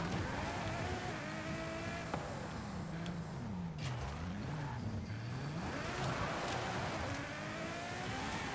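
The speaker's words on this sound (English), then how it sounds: "That is just the racing V12 sound" Ferrari FXX-K EVO racing V12 engine in the video game Forza Horizon 5, a constant engine drone with pitch sweeping down and up through gear changes and revs, steady and fairly loud, no talk.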